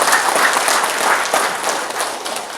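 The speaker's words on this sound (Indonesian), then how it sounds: "Kita beri tepuk tangan." Applause from the crowd at a NasDem party inauguration and consolidation gathering in Merauke, Papua, with steady, loud, continuous clapping filling the whole moment and no voices standing out.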